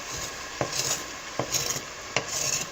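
Rhythmic scraping and scrubbing of burnt residue off a metal pan, with a few sharp knocks of a utensil against the surface, close up and fairly steady.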